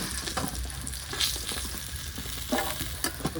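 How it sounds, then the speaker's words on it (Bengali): Three pieces of fish fry in hot oil with a close, steady sizzle and crackle, broken by a few sharper spits and pops, and no talking. "মাছটা আমার ভাজা হয়ে গেছে"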